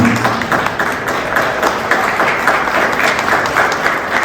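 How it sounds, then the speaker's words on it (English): An audience at a fundraising event breaks into sustained applause, a loud, even clatter of many hands clapping without pause and with no voices on top. "That deserves a huge round of applause"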